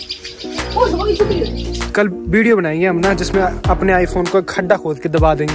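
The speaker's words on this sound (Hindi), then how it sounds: "ये आवाज सुनाई दी इसको चिड़िया की" Small birds chirp in short, bright bursts outdoors, mostly beneath a man's near, continuous talking in Hindi.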